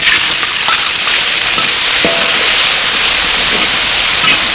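Chopped chili and ginger hit hot oil in a wok, giving a loud, steady hiss and sizzle that fills the whole moment, with faint clinks under the frying.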